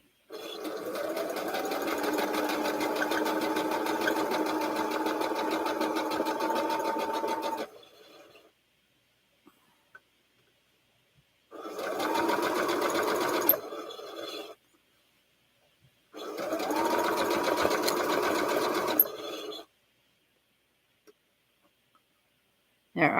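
A sewing machine stitches in three bursts: a long run of steady mechanical whirring, then two shorter runs separated by near-silent pauses. The sound is close and moderately loud, with no voices.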